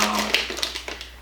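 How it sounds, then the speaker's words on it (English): Short, crisp knife taps on a cutting board as peanuts are chopped, a handful of quick, close chops in an uneven rhythm over a quiet room. "So let me get started on cutting up these peanuts, and I'll be back."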